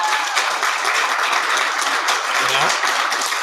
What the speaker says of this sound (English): Round of applause for Cynthia.